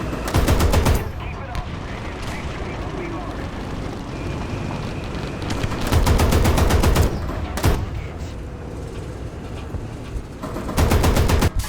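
Rapid automatic anti-aircraft cannon fire from a German Flakpanzer I Ausf. A, a Tier-1 self-propelled anti-aircraft gun in War Thunder, comes in loud sustained bursts with pauses between, over steady engine rumble and battle noise.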